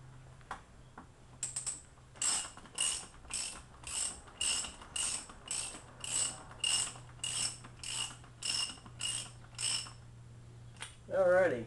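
Ratchet wrench snugging the wheel bolts on an aircraft main landing gear, a close rhythmic series of about fifteen clicking bursts in steady succession, with a brief voice at the end.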